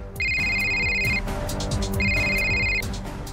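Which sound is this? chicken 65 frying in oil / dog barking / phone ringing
phone ringing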